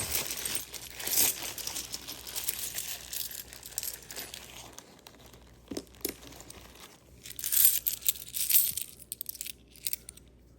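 Small metallic clinks and jingles of dropped silver and foreign coins scatter irregularly, with soft rustling handling sounds between them at close range.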